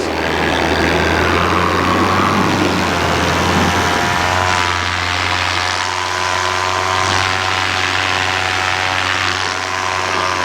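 Small paramotor engine droning steadily in flight under a paraglider wing, a loud constant mechanical buzz with harmonic whine throughout and no talking.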